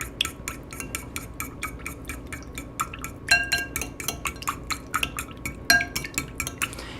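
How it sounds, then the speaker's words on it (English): A keto chocolate peanut butter fat bomb mixture being mixed in a bowl, with quick repeated clinks and scrapes of a utensil against the dish in a busy rhythm, a few louder ringing knocks, and no talk. "You want to get it mixed in real well, because it's gonna be really oily if you don't."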